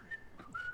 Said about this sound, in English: So you were whistling after you had your go as well?